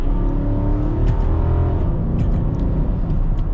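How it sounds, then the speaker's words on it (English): A 2022 Nissan Armada engine with a 7-speed automatic hums loudly and steadily from inside the cabin, its pitch shifting as the transmission changes gear, with no talking. "But you guys can see the downshifts, pretty responsive."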